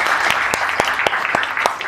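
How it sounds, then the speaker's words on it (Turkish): Audience applause at an interactive show, dense steady clapping from a crowd with a few sharp louder claps standing out, fairly close and loud, with no voices. "Kocaman bir alkış."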